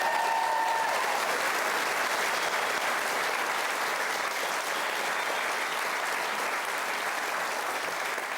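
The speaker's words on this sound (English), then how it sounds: "You can give them a big round of applause and welcome." Sustained applause from a large crowd at a preview event for the All-Ireland club hurling and football finals, a dense even wash of clapping that holds steady for several seconds.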